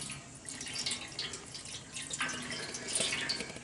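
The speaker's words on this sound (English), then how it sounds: "we're going to put some water in our pan" Water splashes and trickles into the pan of a smoker set up for rainbow trout, a steady, moderately quiet wet rush with small drips and gurgles throughout.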